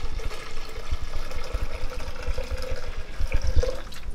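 Apple juice pours steadily into a pan while a Boston butt is smoked on a Green Egg grill, giving a continuous close splashing liquid sound with some gurgling and no talk.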